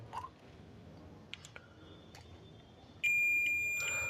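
A multimeter continuity buzzer, testing the driver of a Crompton 7-watt LED bulb under repair, sounds one steady, high-pitched beep that starts abruptly and holds loud and unbroken for over a second, after quiet room noise.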